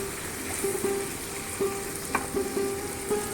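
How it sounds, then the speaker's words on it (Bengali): Cauliflower and potato pieces fry in a pan, giving a soft, steady sizzle with a few light clinks from the utensils and no voices. "আর ওদিকে আমার ফুলকপি আলু ভাজা চলছে।"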